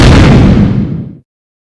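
A single loud, booming explosion with a deep rumbling body that fades out over about a second, then silence.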